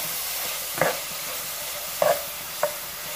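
Chicken frying in a pan for a Pakistani tomato salan, a steady hiss of sizzling oil broken by three distinct scraping stirs of a spoon against the pan, close and clear.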